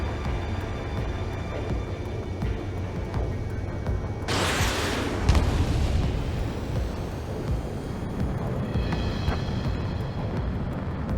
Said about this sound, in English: Enemy's airstrikes are flawless.